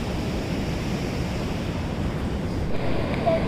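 Sea waves wash steadily onto a beach at Achara at high tide, a continuous broadband surf roar with gentle swells and some wind, no voices.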